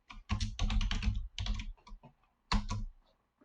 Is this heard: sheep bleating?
no